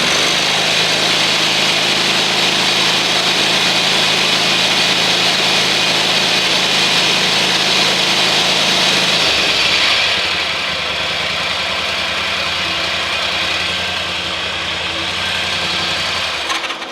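A zero turn mower engine with an electrical fault and loss of power drones steadily at high revs, then drops to a lower idle partway through, running close and loud throughout.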